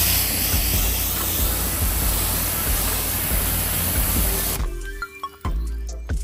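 Pressure-washer water spray blasting dirt off a ceramic-coated car during mobile detailing in Arizona, a loud continuous hiss that cuts off near the end, leaving brief clatter and quiet.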